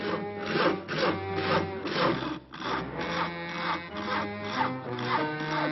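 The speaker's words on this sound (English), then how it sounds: "Isn't that your house Harry is sawing on" Rhythmic back-and-forth strokes of a hand saw cutting through wood, about a dozen rasping passes at a steady pace, close by.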